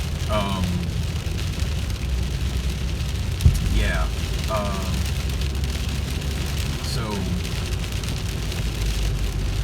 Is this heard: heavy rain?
yes